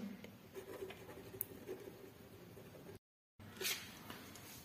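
Faint strokes of writing on a board in a coordinate geometry class, soft scratchy marks in short bursts over quiet room noise, broken by a brief gap of silence.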